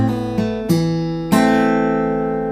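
Acoustic guitar playing a Travis-picking lick with the second and third strings plucked together, four clear plucked attacks a fraction of a second apart, each ringing on and decaying slowly, close and alone without talk.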